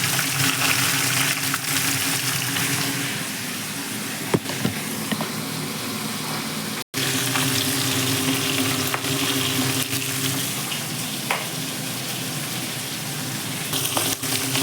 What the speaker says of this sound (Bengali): মাথাগুলো ভাজা হচ্ছে